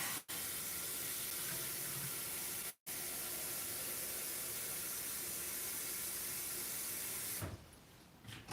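Tap water runs steadily into a container to fill it for tea, a constant hissing splash with two brief cutoffs, then the flow changes near the end.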